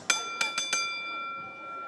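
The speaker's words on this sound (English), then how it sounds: "when the bell rings" Boxing ring bell at a professional bout, struck four quick times with bright ringing tones that linger and fade, over faint arena ambience.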